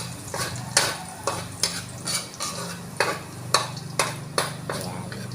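Garlic sautés in a pan with a constant sizzle while a utensil clacks and scrapes against the metal in regular, close stirring strokes roughly twice a second.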